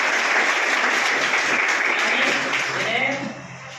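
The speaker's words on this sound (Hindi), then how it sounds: "इस पर ताली बजाओ।" An audience claps together at a speech about Ahilyabai Holkar, a full continuous round of applause that holds steady and then fades off toward the end.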